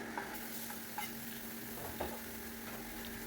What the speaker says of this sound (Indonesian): Pertama ini kita akan tumis bawang bombay dulu.